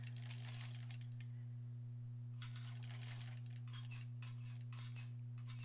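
A sewing machine back-tacks on a Halloween embroidered tote bag, with a steady low motor hum under bursts of rapid rattling stitching that pause and restart, and no one speaking.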